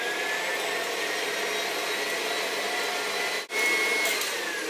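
An electric mixer whips egg whites, whirring loudly and steadily up close, a constant high motor drone with one brief dip partway through.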